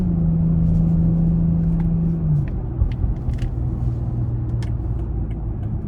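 The engine of a 2018 BMW X3 M40i hums and rumbles steadily from inside the cabin as the SUV moves toward an interstate on-ramp, with a sustained drone that shifts pitch partway through. No one talks.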